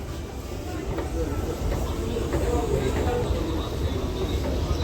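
A Kolkata metro train rumbles steadily at a station platform, a continuous loud roar with faint rattling; background voices are mixed in.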